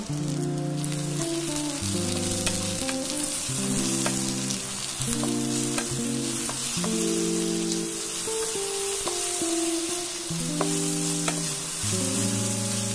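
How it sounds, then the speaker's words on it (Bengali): Long-cut potato strips fry in a pan of hot oil with a steady, close sizzle, punctuated by repeated clanking strokes of a spatula stirring against the metal. "আলুটাকে প্রথমে ভাজা ভাজা করে নেব।"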